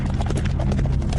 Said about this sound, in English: and they galloped off toward Shaolin